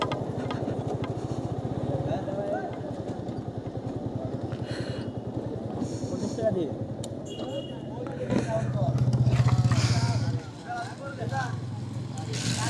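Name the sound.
motorcycle riding along a road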